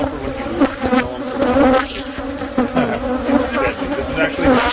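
Killer bees buzz loudly and continuously around an opened hive during a removal, a close, dense swarm drone with individual bees darting past the microphone, no voices.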